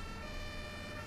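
An ambulance siren in the OMSI 2 bus simulator game wails steadily and fairly faintly behind low road and engine rumble, a continuous tone with no break.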